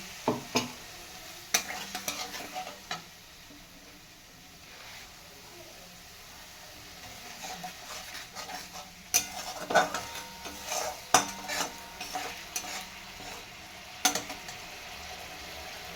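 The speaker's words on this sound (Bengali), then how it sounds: "এবার এতে অল্প জল দেবো, দিয়ে মশলাটা আরও কিছুক্ষণ কষাবো" Spiced masala sautéing in a pan with a little water added for a vegetarian dhokar dalna, soft sizzling beneath repeated sharp scrapes and clinks of a spoon against the pan, with a voice talking faintly at times.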